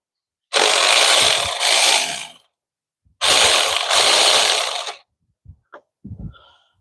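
A deep-socket ratchet works on bolts of a 2002 Chevy Malibu during a radiator and thermostat replacement: two long, loud whirring bursts of about two seconds each, then a few short, sharp clicks and knocks, with no talking.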